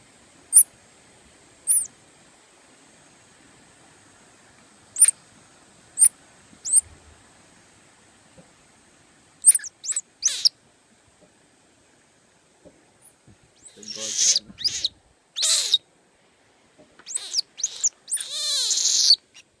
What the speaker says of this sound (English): She's a monkey, a type called a Saki.